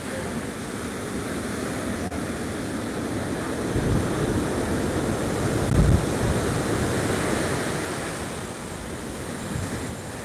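Large ocean waves from a typhoon pounding a Bicol shoreline, a constant loud roar of surf with wind buffeting the microphone and heavier crashes swelling now and then, no voices.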